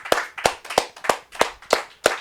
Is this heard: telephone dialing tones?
no